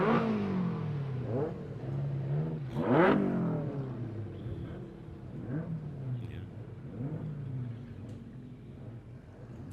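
Stock car number 92 circles the race circuit, its engine revving and swelling as it passes, then fading away, heard at moderate distance with rising and falling pitch.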